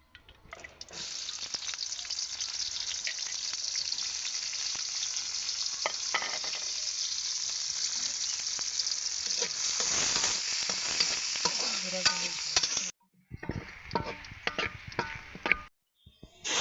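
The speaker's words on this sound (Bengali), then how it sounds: "ডাল বাগার দিয়ে দিলাম।" Dal being tempered with spices dropped into hot oil, a loud, steady sizzle close by that runs for about twelve seconds, breaks off abruptly, then comes back in shorter bursts.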